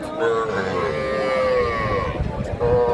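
A Sahiwal heifer calf lets out one long, drawn-out moo nearby, loud and wavering, with a shorter low call starting at the end.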